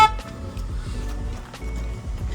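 A car horn sounds at the start, a brief toot during a driving-test vehicle check, followed by a steady idling engine rumble nearby.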